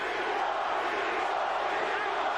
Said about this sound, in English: Crowd chanting Tito, Tito, Tito.